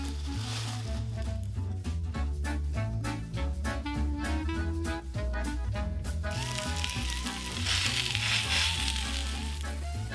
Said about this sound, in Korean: 자, 이제 불을 켜고 감자를 굽는 거예요.